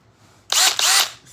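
A power drill runs in two short bursts, loud and close, with a high whirring motor whine that starts abruptly and then winds down.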